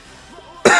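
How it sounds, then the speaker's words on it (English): A single short, sharp cough close to the microphone, bursting out at the very end after a near-silent lead-in. "Sorry for the cough."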